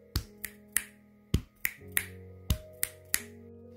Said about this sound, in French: le A sera la frappe du torse, le CC sera le claquement de doigts, ce qui nous donnera torse, doigt, doigt